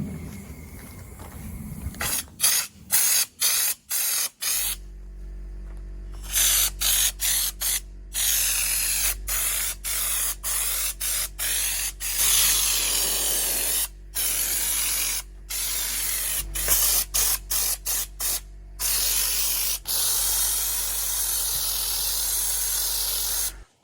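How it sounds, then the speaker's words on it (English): Spray paint hisses onto a car in repeated bursts, some short and some held for several seconds, close and loud, separated by brief silent gaps and a few mechanical clicks. "I'm just gonna start spraying."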